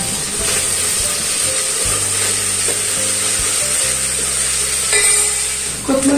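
Coriander, curry leaves and ground masala fry in hot oil with cumin for a brinjal dish, giving a steady, close hissing sizzle with occasional clatter, alone without talk.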